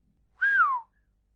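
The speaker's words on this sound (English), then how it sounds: "he whistled." A man gives a single short whistle, a clear tone that slides downward in pitch over under half a second, alone against silence.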